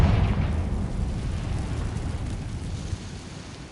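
Confringo spell explosion in Hogwarts Legacy, a loud, deep rumbling blast that starts strong and decays slowly into a sustained low roar over several seconds, with no talk.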